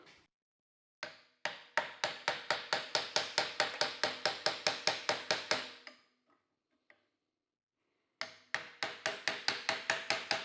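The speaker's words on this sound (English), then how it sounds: "So I think I can just push the end of that bushing out." An old bushing is forced out of a Porsche 356 pedal with rapid, evenly spaced sharp metallic clicks in two runs, separated by a quiet gap with a couple of faint taps.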